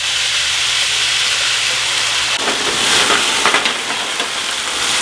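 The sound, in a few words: cognac poured into hot pan with cooked steak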